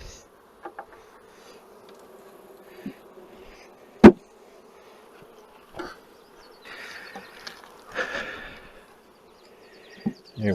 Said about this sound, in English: I'll dump the bees.